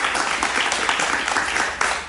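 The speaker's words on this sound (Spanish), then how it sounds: "lo recibimos con un aplauso muy cariñoso" Warm studio audience applause greeting a guest on a Spanish-language interview show, a dense continuous burst of clapping at moderate volume.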